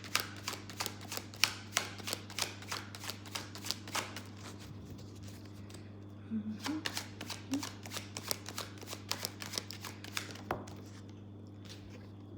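Tarot cards being shuffled and drawn from a deck, a quick run of crisp riffling flicks and snaps close by, pausing briefly midway before resuming, over a steady low electrical hum with no talking.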